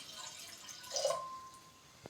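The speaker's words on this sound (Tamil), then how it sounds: "இப்போ ஒரு குண்டாவில் தண்ணி ஊற்றிட்டோம்." Water runs and splashes into a cooking pot while semiya payasam is being made, a brief quiet pour that peaks for a moment and then trails off into faint drips.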